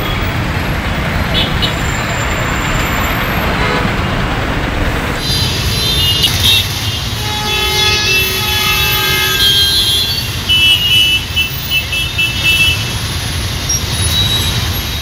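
Busy town street traffic during a festival, a steady wash of engines and road noise with vehicles passing close, while people talk over it throughout.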